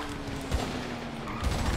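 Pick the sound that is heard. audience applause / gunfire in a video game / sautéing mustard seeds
gunfire in a video game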